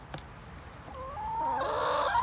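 Chickens foraging for bugs and beetles in a square bale of grass, with a soft click at first and then rising, drawn-out clucking calls, fairly close.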